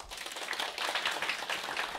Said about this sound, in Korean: 황금 대지에 오셨는데 박수가 이 정도면 안 되죠